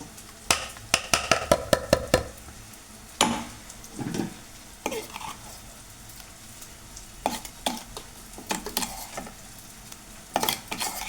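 Onion frying in a pan for a chicken dum biryani, a soft background sizzle with bursts of quick spoon clinks and scrapes, some in rapid runs, close by and without talk.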